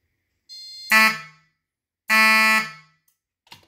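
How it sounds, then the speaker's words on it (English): Two sharp electronic beeps sound from a fire alarm panel, each a harsh buzzing tone lasting about half a second, followed by a faint click. "It'll beep a couple of times."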